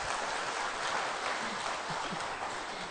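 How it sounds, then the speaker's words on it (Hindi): Audience applause at an indoor panel discussion, a steady wash of clapping from a crowd that holds evenly for about three seconds at moderate loudness. "ताली बजाइए अच्छी तरह से."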